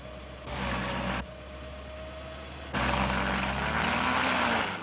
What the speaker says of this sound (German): Nach ein paar Zehntelsekunden springt der Motor an.